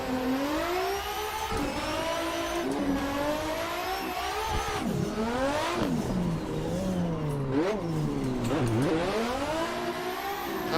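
A race car engine in the Assetto Corsa racing game, played in VR during a practice session, revs continuously with rising and falling pitch as it shifts through gears, loud and steady with no talk.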